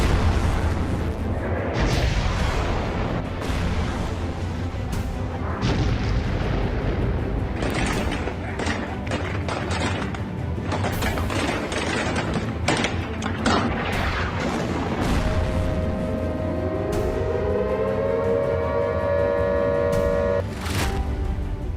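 Explosions and artillery fire from the civil war in Sudan, a dense run of booms and sharp bursts that stays loud throughout, mixed with a voice and other sounds, with a rising tone toward the end.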